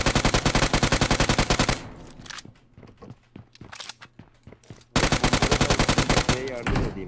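Loud rapid automatic fire in the PUBG Mobile game comes in two sustained bursts, one at the start and one at the end, with scattered single shots and quieter movement sounds between them.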